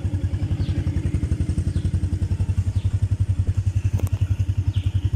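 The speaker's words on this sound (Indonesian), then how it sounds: "Alright, so biar dia running kejap, 1 minit, 2 minit." A Modenas CT115S motorcycle, just given an oil change, idles close by with an even, rapid single-cylinder putter that holds steady throughout, loud and alone with no talk.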